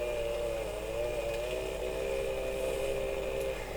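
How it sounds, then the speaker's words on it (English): A chainsaw in the Farming Simulator 2015 video game cuts into a tree, a steady droning whine held at constant pitch for a few seconds, loud and close with no talking. "What we do is you put your chainsaw so it's digging in, yeah, and then just run up the middle."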